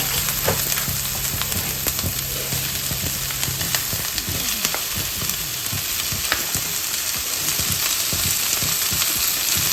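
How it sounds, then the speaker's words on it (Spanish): Chicken tenderloin sizzles and fries steadily in a hot pan, a continuous close crackle with occasional stirring clicks, no talking. "Vamos a poner nuestro solomillo."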